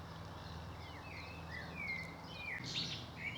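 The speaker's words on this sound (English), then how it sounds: "As a blackbird in the background joins the chorus." Songbirds, a blackbird and a song thrush, sing faintly across open countryside, with thin fluting phrases and chirps over a soft steady background hiss.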